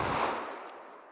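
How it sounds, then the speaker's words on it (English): The tail of a single .22 Magnum gunshot fired into denim and MDF, a loud broad crack decaying over about a second into quiet. "All right, 22 mag through our denim and MDF."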